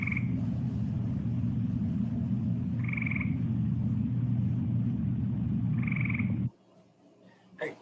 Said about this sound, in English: That's the call of a gray tree frog.